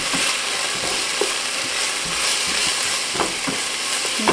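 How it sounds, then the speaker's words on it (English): Four cloves of minced garlic sizzle in a pan, giving a steady, moderate hiss throughout. A spoon scrapes and taps as the garlic is stirred continuously. "I have 4 cloves of minced garlic. Okay, you want to just keep stirring,"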